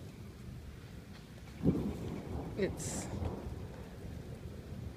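Hail rattling on the aluminum roof of an RV during a thunderstorm, a dense continuous patter with a few sharper impacts and a brief spoken word over it.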